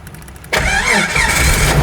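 Faint ticking gives way to a Jeep Cherokee Sport 4.0-litre engine cranking and catching, then settling into a loud, steady idle up close.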